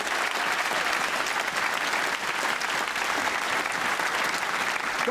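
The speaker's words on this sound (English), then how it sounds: "Give them a round of applause." A large stadium crowd at a televised Australian football season opening night applauds in a steady, dense roar of clapping that holds evenly throughout, with no voices standing out.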